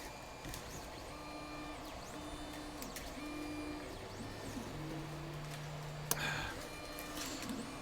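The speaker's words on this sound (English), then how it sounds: "3D printer noises for days" A 3D printer runs, laying down filament, with faint whirring stepper-motor tones that rise and fall in short segments over a steady low hum, plus occasional small ticks and one sharp click.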